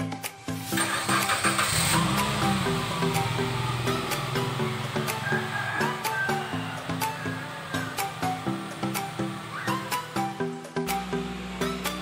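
A 2007 Suzuki Grand Vitara engine holds a steady idle near 2000 RPM during intake carbon cleaning, a close, continuous mechanical drone with rhythmic ticking pulses and no voices.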